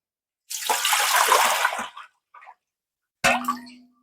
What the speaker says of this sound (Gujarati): તો ટોપિયામાં પહેલા તો હું પાણી નાખી દઉં